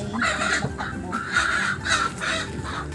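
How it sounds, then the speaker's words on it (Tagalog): Chickens cluck and squawk in repeated bursts, fairly close and loud, with a steady background hum. "Ang manok."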